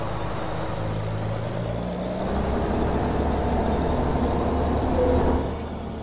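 An old truck's engine rumbles loud and close with a deep steady roar that swells briefly near the end before easing off. No one speaks.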